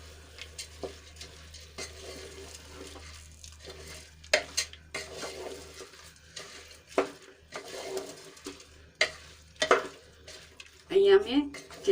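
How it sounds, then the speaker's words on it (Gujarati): Soaked basmati rice and peas being stirred in a pressure cooker: intermittent scraping and clinking of a spoon against metal over a low background, with some louder knocks near the end. "અને સરસ રીતે મિક્સ કરી લઈશું"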